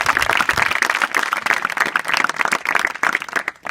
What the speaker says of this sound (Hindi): तो मैं चाहूंगा कि आप सभी बच्चे एक साथ, जितने यहाँ पे गणमान्य लोग बैठे हैं, उन सबके लिए एक ताली बजा दें।